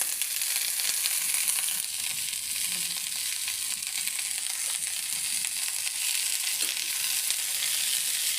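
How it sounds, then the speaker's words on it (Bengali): Garlic frying in oil in a pan, a steady, loud, hissing sizzle that holds evenly throughout with no pauses. "এই যে রসুন ভেজে নিচ্ছি"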